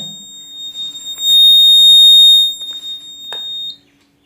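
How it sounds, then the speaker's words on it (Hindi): Digital multimeter testing a piezo buzzer: a steady, loud high-pitched electronic tone sounds for about three and a half seconds, with brief clicks from the probes touching. "बीप का साउंड आ रहा है, इसका मतलब ओके है।"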